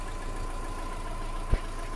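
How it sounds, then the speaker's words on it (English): A 2007 Subaru Outback with a 2.5-liter flat-four engine idles steadily at a constant low hum, with one brief thump near the end. "the RPM just dropped down. You can hear the engine."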